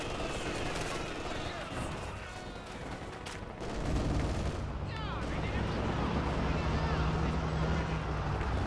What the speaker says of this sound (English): Shock troops being suppressed by the MG.